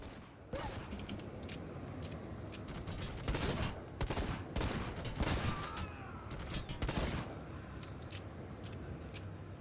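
Gunfire in the video game Necromunda: Hired Gun, including a revolver, with a sharp burst of closely spaced shots in the middle, loud and dense over a steady backdrop of game ambience.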